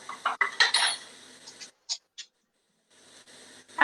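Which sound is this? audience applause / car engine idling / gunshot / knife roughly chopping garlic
knife roughly chopping garlic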